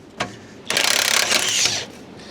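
A ratchet wrench loosens suspension hardware on a 1980 Dodge Power Wagon, giving one sharp click and then a loud, rapid, buzzing ratchet run lasting about a second, heard up close in a garage.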